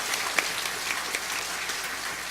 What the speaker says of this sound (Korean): 사랑의 박수 부탁합니다